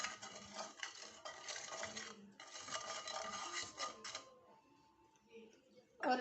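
Chili and salt stir-fried in a pan, with quiet metallic scraping and clinking of a spoon against the pan in short bursts, then a brief lull and a final loud clatter.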